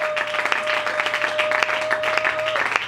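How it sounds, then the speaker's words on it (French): Church congregation at a Sunday service applauding together, a dense continuous wash of clapping lasting throughout, with a faint sustained tone underneath. "nous allons acclamer très fort Jésus"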